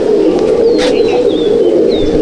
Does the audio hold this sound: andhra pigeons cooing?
yes